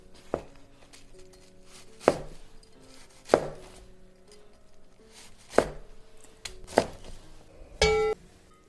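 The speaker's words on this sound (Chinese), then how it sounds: "这样通通切好以后" A knife chops through crisp fried chicken strips for General Gau's chicken, five or six sharp separate strikes on a cutting board spaced a second or so apart, then a brief clink at the end.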